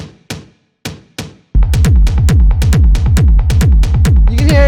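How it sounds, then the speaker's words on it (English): A tom sample for a dark techno track hits alone a few times with sparse spacing, then a pounding kick joins and the toms roll in a steady, driving pattern with deep pitched decays. "And then after that we have this tom"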